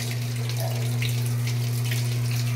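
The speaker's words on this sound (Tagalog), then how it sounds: "Pumasok na yung tubig niya." Steady running water from a tap pouring into a machine, continuous and fairly loud, with a low mechanical hum underneath and no voices.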